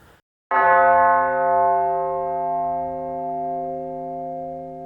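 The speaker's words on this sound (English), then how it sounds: "This phenomenon is most apparent when you hear something like a church bell chime" A church bell strikes once, loud and close, then rings on with a long sustained hum of overtones that slowly fades with no other sound around it.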